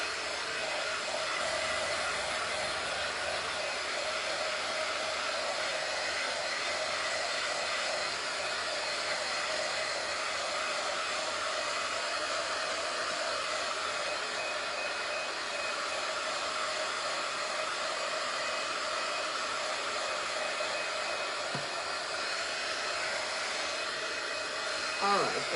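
A hair dryer blows steadily on fresh paint on a baseball welcome sign, a constant close whooshing hiss that runs unbroken throughout, with a small knock near the end and no speech.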